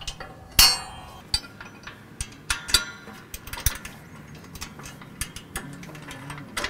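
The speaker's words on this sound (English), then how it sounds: "Line the holes up and insert the pins." Metal pins pushed and worked into the holes of a bracket on a 54-inch tractor shovel: a scattered series of sharp metallic clinks and taps at close range, with one louder clank near the start, over quiet background.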